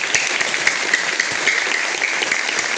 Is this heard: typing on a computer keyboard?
no